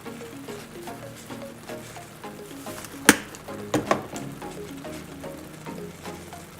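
Ground turkey with minced garlic sizzles and fries in a pan for chili, a close, steady crackle broken by a few sharp clanks of a utensil against the pan.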